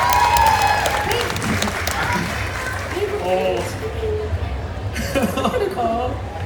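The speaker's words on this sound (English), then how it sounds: "Let's clap that." Audience applause at a D23 Expo panel, loud clapping at the start that fades into scattered claps and chuckles, with speech from the stage afterward.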